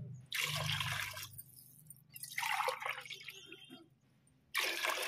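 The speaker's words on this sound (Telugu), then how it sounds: "6 గ్లాసెస్ ఇక్కడ నేను వాటర్ తీసుకోవాలి కరెక్ట్గా అన్నమాట" Water is poured into a cooking pot for basmati rice in three separate pours with short pauses between them. The splashing is fairly close and clear.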